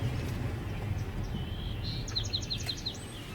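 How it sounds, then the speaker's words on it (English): A swamp sparrow's chirps sound in a quick run of short notes late in the clip, faint and distant over low rumbling background noise in a marshy outdoor setting. "that may have been a swamp sparrow we just heard"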